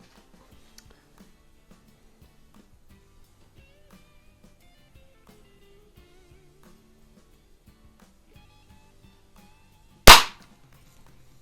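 An underlever pellet pistol fires once: a single sharp, loud crack close by after long near-silence.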